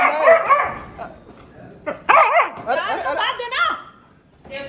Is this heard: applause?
no